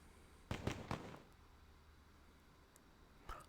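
Explosions from an attack on a boom cannon in a base-raiding video game: a quick cluster of three or four sharp bursts, then a quiet gap and one more fainter blast, with no talk.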